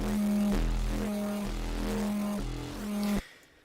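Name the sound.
FM synth sound designed in Serum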